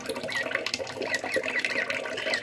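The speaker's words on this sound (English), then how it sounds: "let them self-soothe with the sound of the water running in the sink" Water runs from a tap into a sink beside baby lovebirds at bath time, a close, steady splashing flow with bubbly trickles, and no talk.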